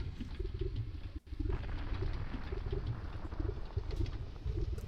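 Cooing of a dove-like bird, the creature, in a tabletop role-play session, a soft repeated coo over a steady low rumble of fiery lava ambience, with one brief dropout.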